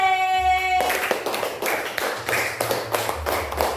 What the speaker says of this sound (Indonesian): Ayo teman-teman kita beri tepuk tangan untuk kelompok C.